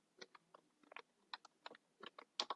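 Computer keys are tapped in quick irregular bursts, crisp and close but quiet, with no voices.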